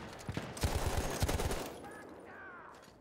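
Rapid bursts of gunfire in Battlefield 1 multiplayer, a quick cluster of sharp loud shots over about a second and a half, then fading into quieter game sounds.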